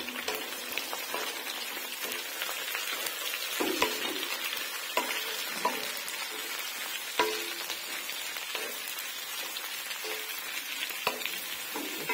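Capsicum, cabbage and carrot frying in a pan for chow mein: a steady sizzle with repeated sharp clinks and scrapes of a spatula stirring at irregular intervals.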